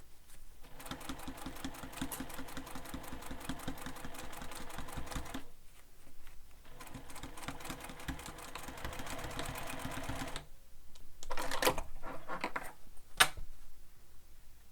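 A sewing machine stitches along the side seam of a fabric sling pack in long steady runs, pausing briefly around the middle and again near the end, with a few small clicks and handling noises between runs.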